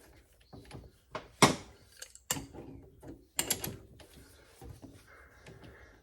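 Metallic clicks and clanks ring out from a wrench tightening the nut on a 1972 VW Super Beetle steering box, a few sharp separated knocks and ratchet sounds, close and fairly quiet.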